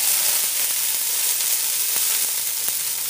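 Garlic hisses and crackles in hot olive oil in a pan, a loud, steady close-up sizzle with small pops and no talking.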